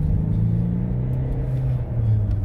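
A 2017 Ford S-Max Vignale with a Stage 1 ECU remap accelerates on the road, heard from inside as a steady, close, low engine rumble with a slight rise in pitch and no speech.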